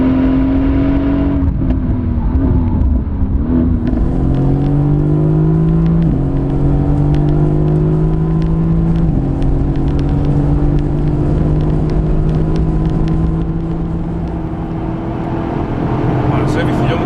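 Mercedes-AMG GT S engine revving hard on downshifts, a loud, close, throaty roar whose pitch steps and swoops as gears change, sustained without a break.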